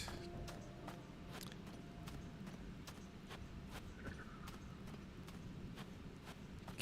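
Horse hooves walking in a video game, a steady clip-clop of evenly spaced hoof strikes, moderately close and alone against a quiet background.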